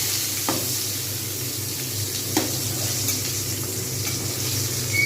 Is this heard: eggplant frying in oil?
yes